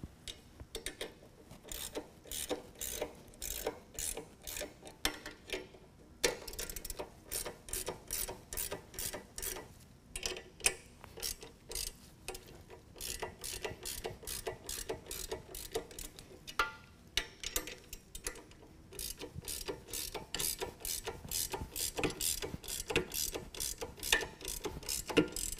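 Nuts and washers being tightened down on a utility trailer during assembly, a steady run of quick ratcheting clicks at a close, fairly quiet level, continuing in bursts with short pauses.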